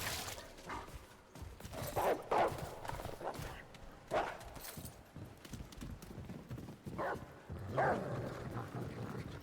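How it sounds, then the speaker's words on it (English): A dog companion runs in Remnant: From the Ashes, its heavy footsteps thudding in irregular bursts close by. Faint game ambience sits underneath and no one talks. "Dog he is a loud runner."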